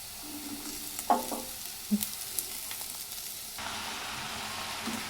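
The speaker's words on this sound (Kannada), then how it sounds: "ತೊಗರಿ ಹಾಕ್ಬಿಟ್ಟು ಇಷ್ಟು ಮಿಕ್ಸ್ ಮಾಡಬೇಕಷ್ಟೆ" Toor dal (pigeon peas) being stirred in a frying pan: a soft, even sizzle broken by a few sharp spoon knocks and scrapes, fairly quiet and close by.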